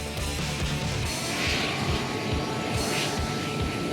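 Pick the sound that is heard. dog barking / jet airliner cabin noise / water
jet airliner cabin noise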